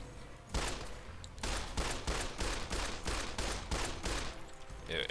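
A weapon in Fallout: New Vegas fires a rapid, steady string of about a dozen loud gunshots, evenly spaced, close and dry, with no voices over it.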